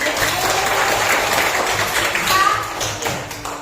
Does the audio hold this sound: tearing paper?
no